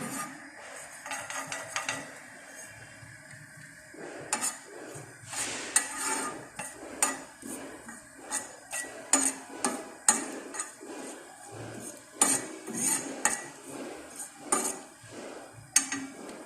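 Cumin seeds roast on a tawa for spicy tawa chicken, heard as a busy run of close metal spatula scrapes and clinks against the pan, rhythmic and continuous throughout, with no talking.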